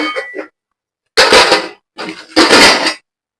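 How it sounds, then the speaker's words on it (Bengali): Washed steel plates and utensils clatter into a basket in a kitchen, two loud bursts of clanking and rattling after a short earlier rattle, with silent gaps between. "থালা বাসন গুলো ঝাঁপির ভিতরে রেখে দিচ্ছি ধোয়া হয়ে গেছে"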